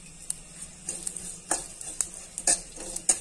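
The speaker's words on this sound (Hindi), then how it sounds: "तो इसमें हम सब्जी भून लेते हैं, हल्का हल्का रोस्ट करके डालिए तो बहुत अच्छा होता है।" Poppy seeds roasting in desi ghee in a pan while a spoon stirs them, giving soft sizzling under repeated scraping taps that come close and clear through the short stretch.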